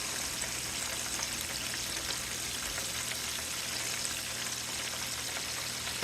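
Deer steaks fry in a pan with a steady, dense sizzle and crackle that stays even throughout, with no voices.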